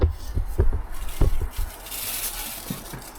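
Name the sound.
wiping and cleaning the engine sump base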